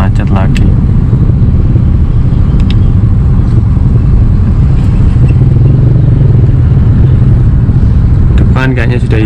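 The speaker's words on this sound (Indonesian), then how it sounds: "pulang kerja macet dan kondisi hujan, diperparah kondisi hujan tambah macet lagi" Evening rush-hour traffic crawls through a rain-soaked jam in Surabaya, heard from inside a car as a constant loud engine rumble and road noise with occasional clatter; a voice talks over it throughout.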